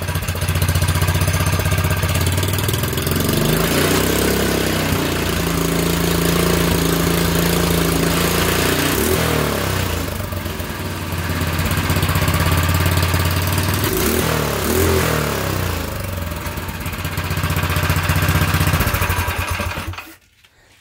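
A Wildcat 223cc small single-cylinder engine on a dirt bike with a thumb throttle runs steadily for about twenty seconds, close and loud. It drones at idle with a couple of gentle throttle swells before cutting off at the end.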